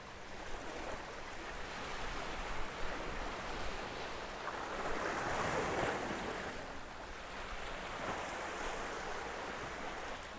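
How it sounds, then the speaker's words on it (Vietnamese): Sea waves surge and crash steadily against a rocky shore crusted with shells and seaweed, a continuous loud wash of surf with swells building and breaking, plus some wind noise on the microphone. "Sóng biển vỗ dập dồn"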